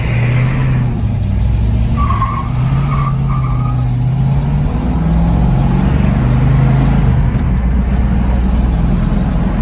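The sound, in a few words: manual V8 car engine revving and shifting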